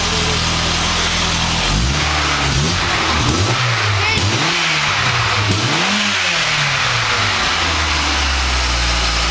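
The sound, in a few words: car engine revving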